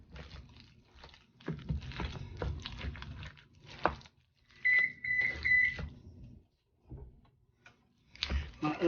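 A kitchen oven, preheating for a loaded baked potato casserole, gives three short, clear beeps in a row, with a voice talking before and after them and soft kitchen handling noises underneath.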